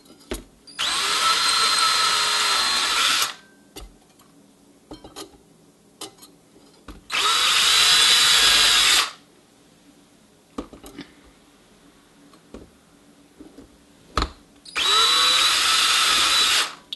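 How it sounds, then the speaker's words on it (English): A power drill with a long bit bores holes into a PVC box, giving three loud bursts of whining, grinding drilling of two to three seconds each, with quiet handling clicks and taps between them. "the nice thing about the PVC box is it's very easy to drill, and you can see it was that easy to drill the holes"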